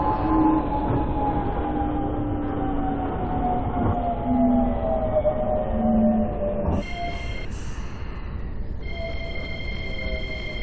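A Seoul Metro Line 1 subway train rolls along with a steady low rumble and drawn-out descending wheel whine. Near the end, a brief clatter gives way to sustained high electrical tones as the train runs on.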